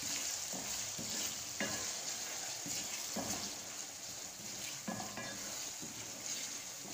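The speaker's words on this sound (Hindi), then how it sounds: "और दही को मिक्स करेंगे।" Yogurt being stirred into a chicken cream handi in a pan, faint repeated scraping strokes over a soft steady sizzle of frying.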